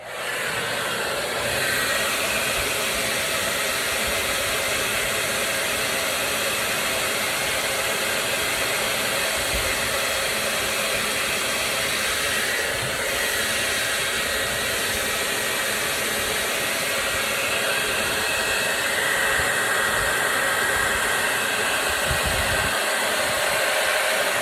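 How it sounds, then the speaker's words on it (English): A hair dryer roars steadily and loudly from start to finish, a constant broadband blowing hiss with no talking. "let's use our hair dryer and dry this bad boy"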